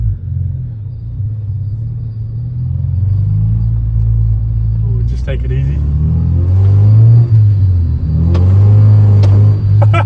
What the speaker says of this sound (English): first drive in the old EG hatch manual